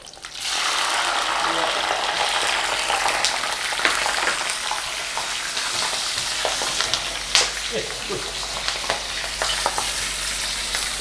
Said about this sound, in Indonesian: Ini bukan direbus, ini digoreng dengan minyak kelapa ya.